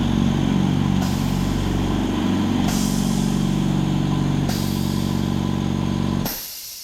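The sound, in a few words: Silent Chicago Hush 150 air compressor running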